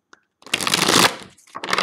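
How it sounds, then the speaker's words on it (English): Tarot cards being shuffled by hand, a short riffling burst of flicking cards close up, a tiny tap first, then a second brief shuffle at the end. "Let me just 2 more shuffles."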